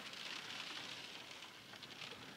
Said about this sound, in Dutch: Regen. Ja, echt.